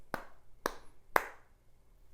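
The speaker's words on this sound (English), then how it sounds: "could you tell me how many times do I clap my hands?" Three sharp hand claps spaced about half a second apart, close and clear in a quiet classroom setting, with no talking.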